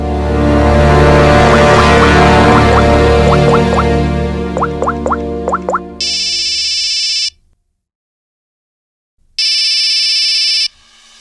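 An electronic phone ringtone plays a melodic pattern of short tones, then two bursts of a loud buzzing ring separated by silence.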